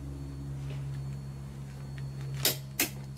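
Torque wrench set to 60 newton metres tightening the variator nut on a Honda Forza 125 scooter, giving two sharp metallic clacks close together near the end after a quiet stretch with a low background hum.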